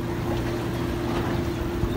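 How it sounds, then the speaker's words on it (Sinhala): A fishing boat turns at sea with its engine droning loud and steady up close, mixed with rushing water and wind. "ඔන්න බෝට්ටුව හැරෙව්වා"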